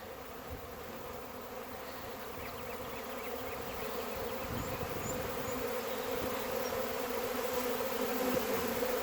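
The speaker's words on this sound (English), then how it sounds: "It's a beautiful sound to be in the middle of a swarm." A dense, steady hum of a honey bee swarm in the air all around, loud and continuous, growing slightly stronger over time with no voices.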